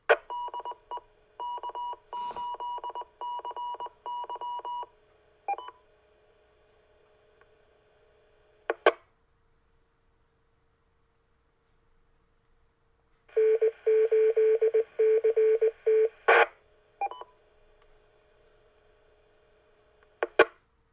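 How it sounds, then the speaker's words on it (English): A radio station identifies itself with telephone-style DTMF tones over an amateur radio net. Fast bursts of dialing beeps come in several runs, with a long dense burst later and short clicks between, all over near silence with no talk. "that was the station ID"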